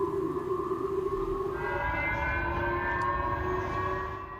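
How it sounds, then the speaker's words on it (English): A loud, steady wailing civil defense siren blares continuously in Hokkaido, Japan, warning of a North Korean missile launch, with a low rumbling underneath, its pitch shifting slightly partway through; no voices. "loud sirens were set off in Japan's northern region of Hokkaido"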